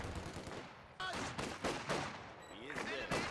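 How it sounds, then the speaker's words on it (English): Light machine gun fire in a strategy video game: repeated sharp bursts of automatic gunfire, some rapid strings and separate cracks, fairly quiet overall, with a commentator talking underneath. "Forcing away squads, and the LMGs pop on that now."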